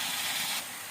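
Chopped bottle gourd hits a hot pan of fried ground spice paste for a Bengali curry, setting off a loud, even hiss that thins a little toward the end.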